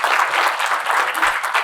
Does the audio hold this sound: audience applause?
yes